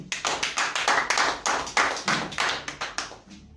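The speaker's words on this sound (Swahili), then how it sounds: "Tumikie makofi mazuri" A small church group claps hands in a quick, uneven rhythm, close and fairly loud, for a few seconds.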